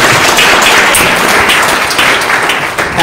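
Sustained applause from an audience at an event about resilience and courage in Israel, honoring a lone soldier; dense, steady clapping fills the whole moment at close range with no break.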